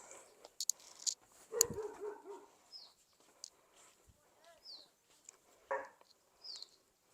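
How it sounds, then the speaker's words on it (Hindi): Tuffy the dog barks in short scattered bursts at a distance in a Uttarakhand village, with birds chirping in between and soft ambient noise around. "और टफी भी देखो भौंक रहा है।"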